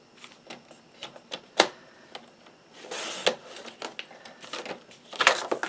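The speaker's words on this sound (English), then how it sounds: "we're going to go ahead and cut up the strips like this" Paper strips cut from a 6x6 sheet for a Halloween craft make crisp, irregular snips and rustling crinkles, close and fairly clear, with no talking over them.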